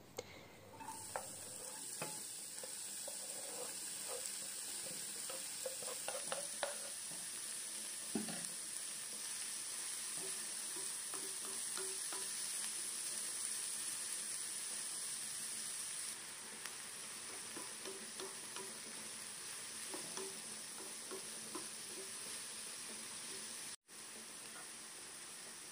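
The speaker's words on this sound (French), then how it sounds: "je vais les faire revenir et cuire dans cette poêle avec la viande hachée" Vegetables and minced meat fry in a pan with a steady sizzling hiss throughout, broken by occasional scraping stirs and small pops; no one speaks.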